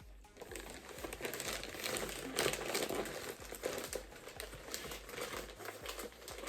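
A crinkly plastic mailer bag holding an online-ordered item is torn open and handled up close, giving continuous rustling and crackling with a few sharper crinkles and no talking.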